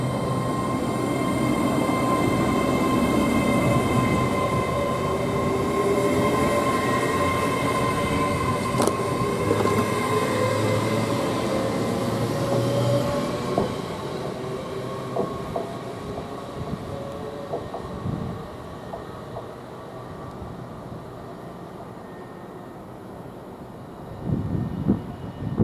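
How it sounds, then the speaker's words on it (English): An East Midlands Railway train bound for Nottingham and Skegness rolls into Grantham station, a loud engine drone and rail rumble that gradually ease, with scattered clanks and squeals near the end. "that train coming in with the EMMR for Nottingham Skegness, that was East Midlands Railway"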